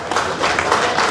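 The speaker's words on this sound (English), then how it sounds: "just raise our arms and a loud round of applause and give them" An audience gives a band a loud round of applause at a police recruitment fair in Barbados, dense close clapping filling a short burst.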